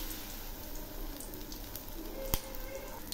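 Battered balsam flower fritters fry in hot mustard oil in a wok, a steady, fairly quiet sizzling hiss with one sharp pop partway through.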